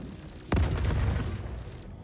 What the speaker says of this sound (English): Firing on the Vanguard.